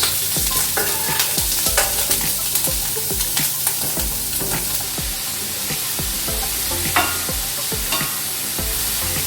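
Diced ham and onions fry on turned-down heat in a pan for mac and cheese, a continuous loud close sizzle broken by irregular scraping stirs and utensil clicks, with no talking.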